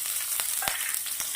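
Green chillies fry in a spoonful of oil in an iron wok, giving a bright, continuous close sizzle with a few sharp pops and crackles breaking through.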